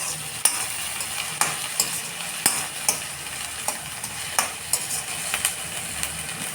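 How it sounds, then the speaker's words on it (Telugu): Fried okra pieces are stirred into browned onions in a pan, a sizzling fry cut by a regular series of sharp utensil scrapes and knocks against the pan, close and unaccompanied by talk. "ఫ్రై చేసి పెట్టుకున్న బెండకాయ ముక్కల్ని ఇలా వేసుకొని"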